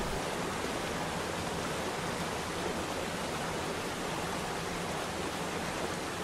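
A mountain stream on the Kudremukha trek in Karnataka, at one of its water crossings, rushes in a steady, dense wash of flowing water that holds even and unbroken throughout, with no voices.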